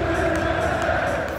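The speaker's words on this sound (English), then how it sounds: "The blue side of Manchester goes wild." Manchester City fans at the Etihad roaring in a steady, loud crowd wash of cheering, with a commentator talking over it.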